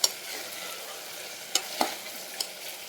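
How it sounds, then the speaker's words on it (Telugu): Raw banana pieces being stirred in a pan for a tamarind curry, a steady soft sizzle with a few distinct scraping strokes of the spoon spread across a quiet stretch, close and fairly faint. "ఇలా యాడ్ చేసుకొని బాగా కలుపుకోవాలండి."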